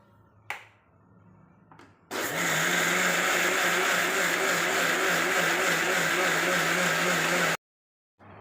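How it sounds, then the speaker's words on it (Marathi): A mixer grinder grinds soaked rice and lentils for set dosa batter, roaring loudly for about five seconds at a steady pitch, then cutting off abruptly; brief clatter precedes it. "हे आपण एका मिक्सरमध्ये काढून ना वाटून घेऊया"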